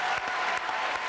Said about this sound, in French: Applaudissements pour Annie Pujol, mesdames et messieurs.